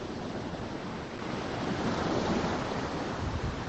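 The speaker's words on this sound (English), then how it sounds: "Hopefully you can hear the waves okay." Ocean waves wash onto a beach at sunset in chilly weather, heard as a steady broadband rush of surf mixed with wind buffeting the microphone, continuous and fairly close, with no one speaking.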